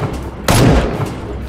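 A single loud gunshot from a zombie shooting range video game, a sharp broadband blast followed by a short rumbling tail, with faint background sound before it.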